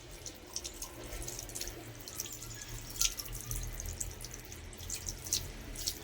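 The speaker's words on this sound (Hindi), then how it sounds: "नल बंद करो जल्दी" A kitchen or bathroom tap runs steadily while someone brushes their teeth at a home sink, with a continuous splashing flow and scattered drips, fairly quiet and without talk.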